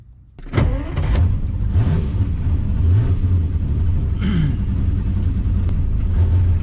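Cold-start and warm-up of a carbureted Ferrari 250 GTE engine on a chilly morning: it catches abruptly, then settles into a loud, steady idle, rising briefly in a few short revs, with no talking.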